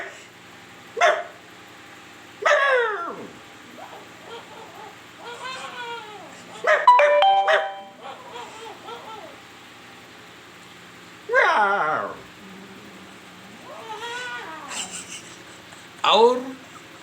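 A man mimics a grown dog barking, producing a series of loud, rough barks and yelps in irregular bursts over several seconds, some single and some in quick pairs, separated by short pauses.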